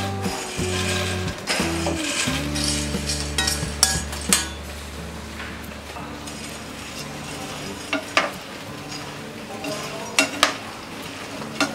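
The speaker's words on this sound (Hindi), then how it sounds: "अब हम इसे इस गरम चाशनी में डालेंगे।" Fried boondi drops are stirred into hot sugar syrup for meethi boondi prasad. A spoon scrapes and clatters loudly against the pan in irregular bursts, with a low hum and a soft sizzle underneath and no talking.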